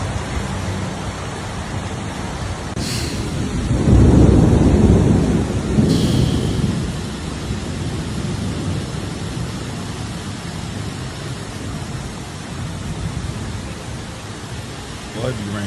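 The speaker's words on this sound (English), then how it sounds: "Boy, it be raining so much," Heavy rain pours in a dense, steady hiss while a deep roll of thunder swells and fades partway through.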